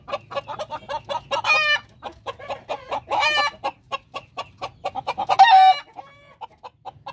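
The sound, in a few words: chickens clucking, rooster and hens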